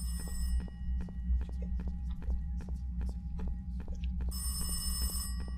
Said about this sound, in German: Warum klingelt hier ein Telefon auf dem Klo?